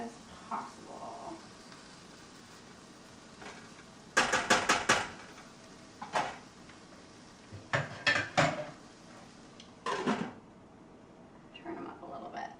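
Brussels sprouts are tossed in a pan with lemon juice, giving several bursts of clattering metal pan and lid knocks separated by quiet gaps, with a voice talking between them.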